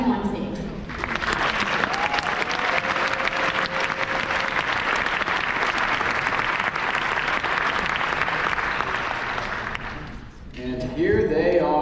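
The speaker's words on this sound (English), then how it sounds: "Let's give our contestants a round of applause as they come back on stage" Sustained audience applause at a university Mr & Miss Southwest pageant, loud and steady for about ten seconds as contestants return to the stage, then fading into a brief lull.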